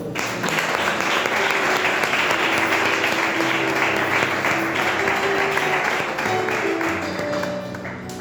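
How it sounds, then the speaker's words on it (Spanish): Congregation at a church service clapping together in sustained, dense applause, steady and fairly loud throughout, with a faint organ-like tone underneath and no talk. "Le damos un aplauso al Señor."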